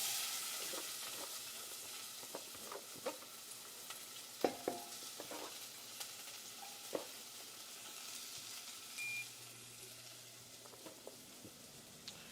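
Onions fry in olive oil in a pot, giving a soft, continuous sizzle with scattered crackles and pops, heard fairly faintly and without talk.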